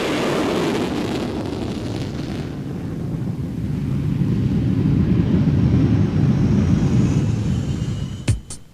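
A two-seat RAAF F/A-18 jet roars loudly with a broad, rumbling jet noise that swells and holds before cutting off abruptly.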